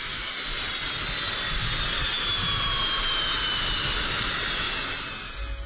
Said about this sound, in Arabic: نجد أحدث أنواع سوخوي 25 الهجومية قيد الخدمة ضمن تسليح القوات الجوية في روسيا